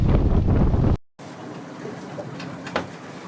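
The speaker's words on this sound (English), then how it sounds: "we're sailing really nicely in this direction" Wind and water rush past a sailboat under way, with broad steady noise, a brief dropout near the start, and a sharper splash or gust late in the stretch.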